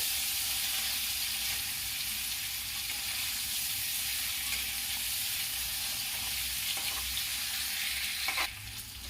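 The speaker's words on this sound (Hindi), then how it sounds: "इसे अलट पलट के इसी तरह मैं फ्राई करूंगी" Paneer pieces shallow-frying in a pan, a steady loud sizzle throughout with faint stirring and turning, no voices.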